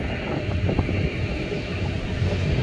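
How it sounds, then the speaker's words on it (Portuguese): Strong wind at Guarulhos airport buffets the microphone in a constant low rumble and roar, steady and fairly loud throughout with no voices. "Tá um vento doido, hein?"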